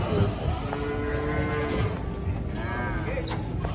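Cattle being unloaded from a truck, several loud, close moos among rumbling truck noise and shuffling, with faint voices in the background.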